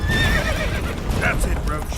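Geralt's horse Roach in The Witcher 3 neighing loudly and close while hooves clip-clop at a trot, amid game battle noise and voices.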